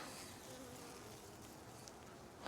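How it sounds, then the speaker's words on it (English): Honey bees in an open hive give off a dense, continuous hum, faint but steady, with no talk. "Lots of bees."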